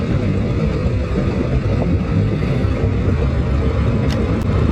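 Labor Day road traffic in Maine, a steady loud rumble of passing cars and engines heard up close, continuous throughout with no talk.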